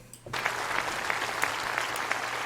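A live concert crowd applauds and cheers steadily while an orchestra plays a song, the dense clapping starting abruptly after a brief quiet moment and continuing loud and even throughout.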